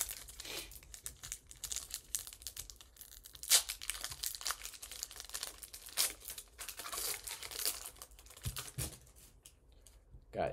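A Pokémon TCG Obsidian Flames booster pack being torn open, close crinkling foil and sharp tearing bursts with card handling, quiet and intermittent.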